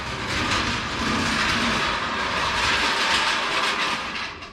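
A Harbor Freight floor jack is dragged across the ground, making a loud, continuous grinding scrape that rolls on for several seconds without pause and with no talking.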